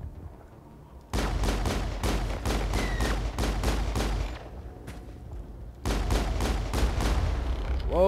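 Enemies open fire in a Mass Effect battle with rapid automatic bursts, loud and close, in two long volleys separated by a brief lull.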